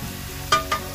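Beef tongue with onion and garlic sautéing in a pan under a low sizzle, broken by two quick metallic stirring clinks of a utensil against the pan.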